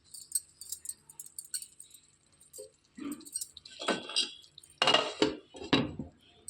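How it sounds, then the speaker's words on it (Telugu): A lid goes onto a pan on the stove while egg pepper roast cooks, heard as a few scattered metallic clinks and clatters, close and moderately loud, with quiet gaps between them. "స్టవ్ సిమ్లో పెట్టేసుకొని మూత పెట్టేసుకోవాలండి."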